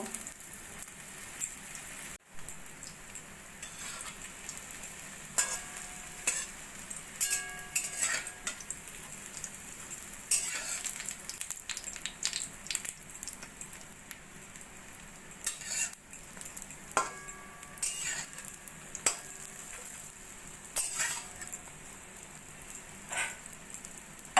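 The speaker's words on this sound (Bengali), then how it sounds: "সোনালি করে আমি পাউরুটি পিসগুলো ভেজে নেব" Bread slices for shahi tukda sizzle and fry golden in a pan, with a steady soft crackle and occasional clinks of utensils; no talking.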